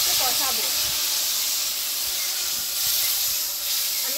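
Cumin and chili paste sizzles in a pan with fried potatoes, giving a loud, continuous frying hiss that swells and fades slightly throughout.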